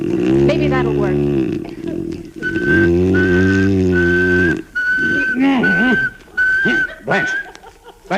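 A woman whistles a single steady monotone note in repeated long stretches in an old radio comedy, broken by short gaps, alongside low droning, snore-like vocal sounds.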